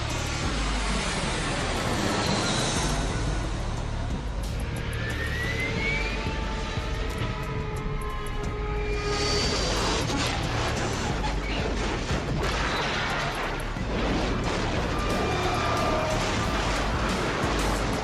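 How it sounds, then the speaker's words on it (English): A steady, loud aircraft engine drone fills the whole stretch, with a roaring, broadband rush and shifting tones as if passing overhead. "A US military contracted plane crashes in the southern Philippines."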